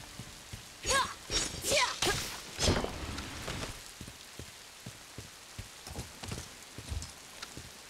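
Rain patters in the video game Bright Memory, with scattered drops and splashes tapping close by alongside a few louder whooshing bursts early on.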